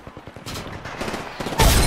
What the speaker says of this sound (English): Throwing a sky nade, see if that hits anybody.